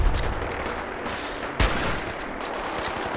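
Heavy gunfire in Fallout 4 during a fight with Brotherhood of Steel soldiers: a continuous rattle of rapid shots, with one sharp, louder report standing out midway.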